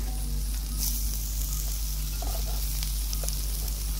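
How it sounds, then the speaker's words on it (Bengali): Eggplant, already boiled soft, sizzles in a little oil in a pan, a steady close hiss of frying that continues without pause and with no voices. "হালকা একটু তেলের মধ্যে আমি এখন ভাজি করে নিচ্ছি"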